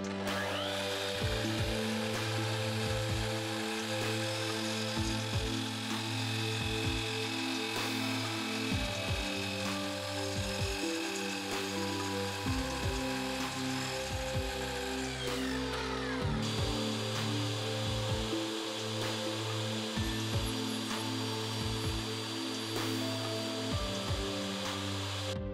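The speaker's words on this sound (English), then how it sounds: "use the miter saw to square the edges" A miter saw squares the edges of wood, a steady loud motor whine running throughout with repeated cutting bursts and spin-downs, and no voices.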